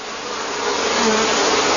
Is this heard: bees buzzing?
yes